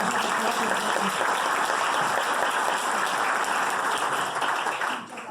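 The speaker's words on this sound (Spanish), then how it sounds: "la vamos a recibir con un fuerte aplauso" An audience at a medical information session breaks into sustained, dense applause to welcome an infectious disease physician from Hospital Hidalgo, filling the room evenly before tapering off at the end.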